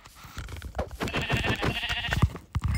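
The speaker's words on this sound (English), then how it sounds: "There's a sheep." A Minecraft sheep bleats several times in quick succession, the wavering baa calls clear and close over soft game ambience, with no speech.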